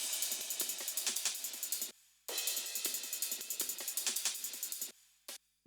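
Layered hi-hat and percussion grooves in an electronic dance remix, a bright, rapid ticking pattern with regular pulses, broken by a brief dropout before resuming and then cutting off.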